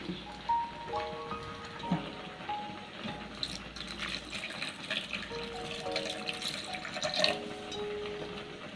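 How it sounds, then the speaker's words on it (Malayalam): Water pours into a mixer jar holding coconut for a Kerala tomato and dried shrimp curry, a soft trickling and splashing that runs steadily for several seconds, close and fairly quiet. "ഇതിലേക്ക് ആവശ്യമായ വെള്ളം ഒഴിച്ചു കൊടുക്കണം"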